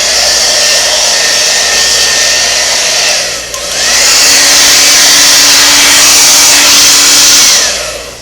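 Hair dryer blowing steadily on a Singer sewing machine foot pedal cord, a loud continuous whooshing roar that dips briefly when switched off, then resumes, alone without talk.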